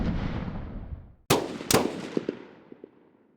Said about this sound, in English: Then the airstrikes came.